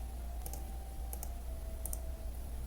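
Soft, light clicks in quick pairs, a few times over a faint steady hum, close by and quiet.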